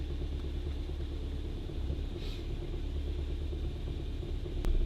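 1964 Volvo 1800S engine idling steadily at about 1,000 rpm, a low, even rumble heard close and alone, with a faint click near the end.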